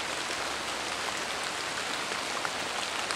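Steady rain falls on a woodland shelter in Vermont, a dense, even hiss of drops that continues without pause and without any voices.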